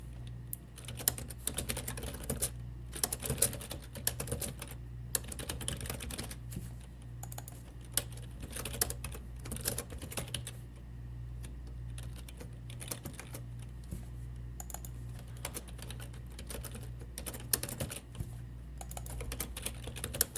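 Steady typing on a computer keyboard while editing code for an online experiment, a continuous patter of close key clicks with occasional louder taps over a low hum, no voices.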